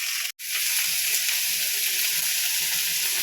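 Green beans sauté dry in a pan with salt and turmeric, giving a loud, continuous sizzling hiss that breaks off for a moment near the start and then carries on steadily.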